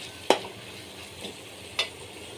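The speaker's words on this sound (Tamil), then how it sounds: "நம்ம இதெல்லாம் ஆட் பண்ணிவிட்டு நல்லா ஒரு தடவை கலந்து விட்டுக்கோங்க ஃப்ரெண்ட்ஸ்" A spoon stirs fish curry with spices and salt in a pan, making a few distinct scraping clinks spaced about a second apart over a soft, steady sizzle.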